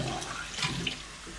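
Water poured lightly into a pan of chicken biryani with stock, a short soft splashing stream running steadily at close range.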